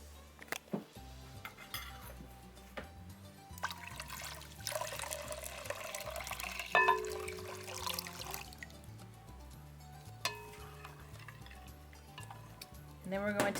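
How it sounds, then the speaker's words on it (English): Distilled water poured into milk in a kitchen while making goat's milk lotion, a trickling pour with clinks of utensils and containers, fairly quiet and close, with dishware knocks scattered throughout. "we can go ahead and add our distilled water"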